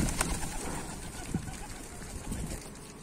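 Pigeons, likely Akkanat white-tailed birds, coo faintly outdoors at dusk in Bursa, the soft calls half lost in a steady background hiss, with one brief sharper note standing out.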